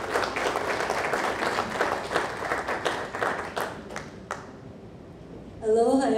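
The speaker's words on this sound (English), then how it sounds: "So let's give a big round of applause to Ms. Sharon Moriwaki." Audience at a community association membership meeting applauding an introduced guest, a dense burst of clapping that thins out and fades over several seconds, followed by a brief voice at the end.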